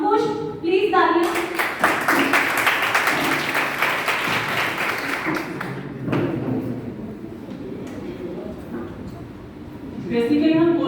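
Applause fills a hospital debate hall at a medical college, with dense clapping building early, then thinning and fading, and voices speaking before and after.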